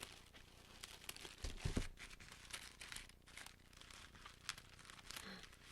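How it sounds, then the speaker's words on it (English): Scissors cut through packing tape and crumple it, making quiet crinkles and rustles with a few soft snips and thumps close by. "I really shouldn't be using these scissors for this tape"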